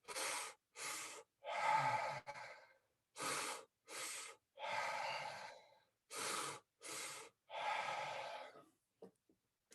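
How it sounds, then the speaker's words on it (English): Deep breaths drawn in and pushed out through the mouth during a breathwork session, a steady cycle of loud close-up inhales and exhales separated by brief pauses, with no talking. "the breath technique is in and out through the mouth"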